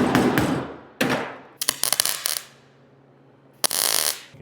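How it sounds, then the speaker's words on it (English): A MIG welder set low for short-circuit welding on thin metal during a car build, popping and spitting in sharp crackling bursts separated by short silences, loud and close. "you'll notice this welder popping back and spitting a lot because I have it turned down"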